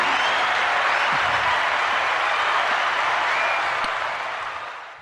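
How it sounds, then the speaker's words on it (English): Steady, dense applause from a studio audience or crowd fills the space at even strength, then tapers off near the end with no talking over it. "let's both applaud for her."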